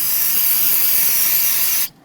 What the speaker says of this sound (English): With the sensor removed, I'm going to use some spray solvent.